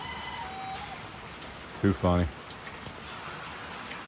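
Steady rain falls outdoors near a garage, a soft continuous hiss throughout, with a short burst of speech and a brief cluck-like call partway through.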